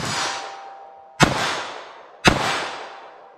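Two sharp .22 LR rifle shots with CCI Velocitor rounds, each followed by a ringing clang off a steel target at close range, spaced about a second apart with the ring decaying after each.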